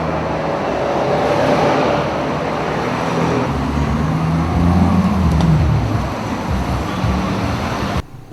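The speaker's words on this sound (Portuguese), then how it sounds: "O trânsito caótico, buzinas, motocicletas realizando manobras irregulares" Dense, chaotic city traffic in Manaus rumbles steadily at close range, a broad wash of engine and road noise that swells and fades over about eight seconds before cutting off abruptly.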